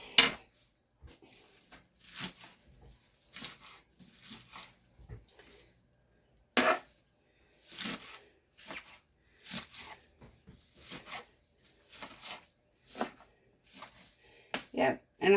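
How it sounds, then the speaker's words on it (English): Knife rough chopping onion tops on a cutting board, a series of sharp irregular knocks and taps separated by short pauses, with a person talking between them. "We're just rough chopping."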